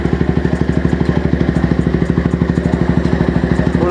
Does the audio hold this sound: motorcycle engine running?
yes